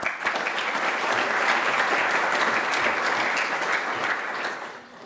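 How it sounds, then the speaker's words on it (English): Conference audience applauding the speakers, a dense, steady wash of clapping that holds for about five seconds before tapering off at the end. "So if you can do a round of applause for them, it will be really good."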